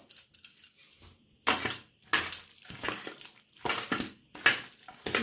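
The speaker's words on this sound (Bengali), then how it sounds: "এই টমেটো সস দিয়ে একটু মেখে নিলাম।" Chicken being mixed by hand with tomato sauce, a wet squelching and crunchy squishing in several uneven bursts with pauses between, close up and with no talk.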